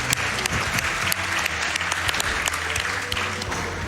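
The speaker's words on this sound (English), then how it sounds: "Can we get a round of applause for Keys?" Steady, dense applause from a live audience at a Games Done Quick speedrun marathon event, filling the whole stretch with a faint voice or two underneath.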